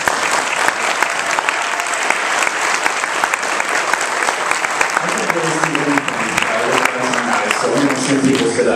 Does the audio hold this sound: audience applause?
yes